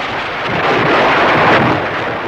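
Thunder sound effect in a Romanian radio comedy show, a loud broad rumbling roar that swells and holds for a couple of seconds without speech.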